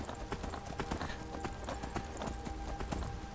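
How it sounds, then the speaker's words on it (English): Horse hooves clip-clop steadily along a road in the video game Skyrim, a quick even rhythm of close hoofbeats over ambient game background with no talking. "we can run along with our little horse along the road"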